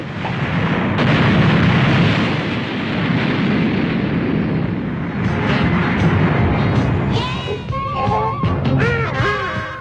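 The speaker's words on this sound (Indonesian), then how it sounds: "menghasilkan ledakan yang cukup dahsyat di tempat itu" A huge Dragon Ball Z cartoon explosion roars loudly and keeps rumbling for several seconds, with whooshing debris and sparkly effects rising near the end.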